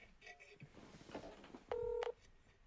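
A short burst of telephone dialing tones, a few steady DTMF beeps keying in a phone number, loud and close, cutting in after faint background chatter.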